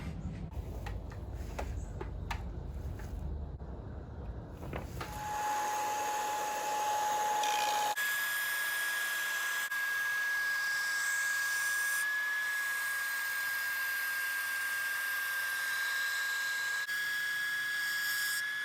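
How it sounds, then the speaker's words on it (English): A belt sander runs steadily on a wooden carving of a yellow-mouth sea trout, a loud continuous whine with a sustained tone that takes over after a few seconds of quieter workshop noise and holds to the end. "Head to the belt sander."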